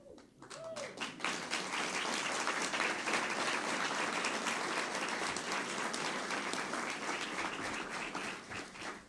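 Audience in a conference room applauds steadily for athletes, dense clapping filling the whole stretch at full strength after a brief swell at the start, with a few voices mixed in.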